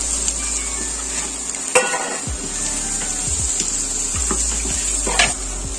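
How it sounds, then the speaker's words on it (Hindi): Onion and garlic sauté in a pan for an Indian onion-tomato chutney, a steady close sizzle with occasional stirring scrapes and light clinks of a utensil against the pan. "ये देखिए दोस्तों, ये हमारा ओनियन और लहसुन सौते हो चुका है"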